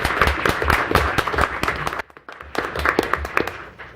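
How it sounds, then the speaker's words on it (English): An audience at a general session claps for a leader being praised; the applause comes as uneven, sparse claps that dip briefly in the middle and then pick up again, moderately loud. "I think that deserves a round of applause."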